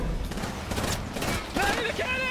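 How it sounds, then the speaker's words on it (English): Gatling gun and cannons firing in the Apex Legends video game, a dense stretch of rapid gunfire and booms mixed with game effects, with a voice speaking over the shooting. "Get on the Gatling gun!"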